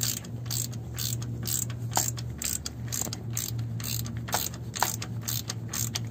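A socket ratchet clicks steadily as it threads an oil pressure switch into a Chrysler/Dodge engine, a run of close, crisp ratcheting pulses over a low steady hum.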